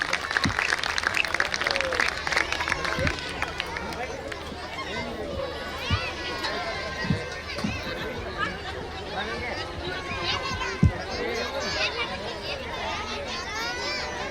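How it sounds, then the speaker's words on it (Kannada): Audience applause for students after a school skit, the clapping starting strong and fading under lively chatter, with children's voices and a few thumps as the crowd settles. "ತಮ್ಮ ಅತ್ಯಮೂಲ್ಯವಾದ ಚಪ್ಪಾಳೆಯನ್ನ ಇನ್ನೊಮ್ಮೆ ನೀಡಬೇಕು"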